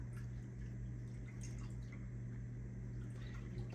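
Evaporated milk poured from a can into a bowl gives a soft, steady liquid trickle. It is quiet and continuous, with faint drips over a low background hum.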